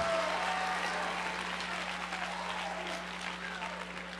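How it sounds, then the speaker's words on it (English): A crowd at a motivational talk claps continuously, a dense, steady wash of applause that fades slightly over a few seconds. "You better clap real loud."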